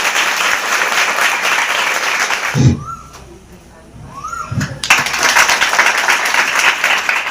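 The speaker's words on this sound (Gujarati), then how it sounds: "જોરદાર તાળીઓ થઈ જાય એ લોકો માટે." Loud crowd applause rings out for students at a school prize ceremony, dense clapping that drops away in the middle while a voice speaks over amplified sound, then surges back strongly.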